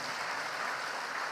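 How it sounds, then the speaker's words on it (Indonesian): A crowd at a PKS political party gathering applauds in a brief, dense wash of clapping lasting just over a second, steady and evenly loud. "Tepuk tangan untuk PKS."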